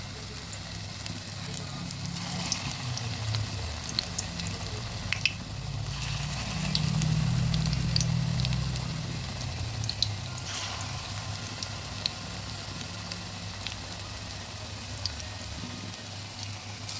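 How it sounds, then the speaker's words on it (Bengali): Banana flower pakoras dropped one by one into hot oil, with a steady low sizzle and bubbling of frying throughout and a louder, fuller swell in the middle. "তেলটা গরম হয়েছে, আঁচটা হালকা কমিয়ে এক এক করে পকোড়াগুলো দিয়ে দিচ্ছি।"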